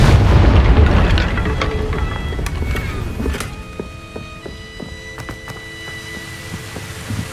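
Confringo spell in Hogwarts Legacy bursting as a heavy booming explosion, loud at the start and rumbling off over a few seconds, followed by scattered sharp clicks and ringing game-effect tones as it fades.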